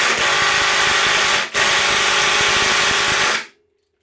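A DeWalt impact driver straining against a stubborn Hilti screw, a loud continuous buzzing whir with one brief break midway, then stopping abruptly into silence.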